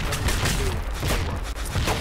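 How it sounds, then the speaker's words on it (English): Enemy tank in a video game firing, heard as a dense stretch of booming shots and crackling gunfire that runs the whole time, loud and busy with overlapping blasts. "Enemy tank is firing."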